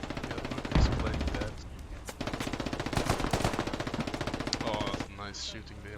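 Automatic weapon fire in the tactical shooter Squad, bursts of rapid shots crackling through the middle and end under a player's voice talking over the game audio.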